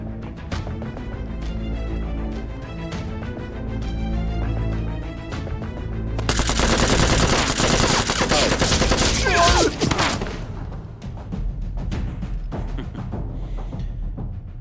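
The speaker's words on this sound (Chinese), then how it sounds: "难民营里的人刚才向我们开火了" Loud, dense automatic gunfire and volleys of shots in a Chinese action drama scene at a refugee camp, continuous rapid bursts with heavy booming, intensifying midway before easing, no speech audible.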